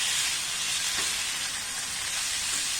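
200 grams of cubed paneer being stirred in a hot pan, giving a steady, even sizzle of frying that stays level throughout, with no voices.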